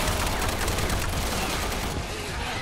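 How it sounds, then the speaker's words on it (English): Machine-gun fire from the Resident Evil 6 Mercenaries mode: a dense, loud, continuous burst of rapid shots and chaotic combat noise that fills the whole moment. "I'm gonna upgrade to machine gun."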